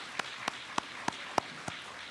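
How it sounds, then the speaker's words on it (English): Sparse applause at a clinical lab science graduation pinning ceremony: six separate, evenly spaced claps, quiet and distinct, over low room hiss. "If we can give them a round of applause"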